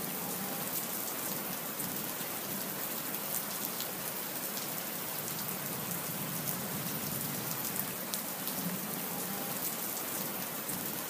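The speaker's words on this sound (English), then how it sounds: "I'm going to wait until the rain stops and then continue going." Acid rain pours down in a post-apocalyptic animated series, a steady, even hiss of heavy rainfall and spattering drops that continues unbroken throughout, with no voices.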